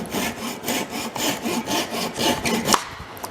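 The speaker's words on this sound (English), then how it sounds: "I use my dovetail saw to cut these off" A dovetail saw cuts off glued wooden dowel ends in quick rhythmic back-and-forth strokes, about a dozen close rasping pulses with a sharp final snap as the piece comes free.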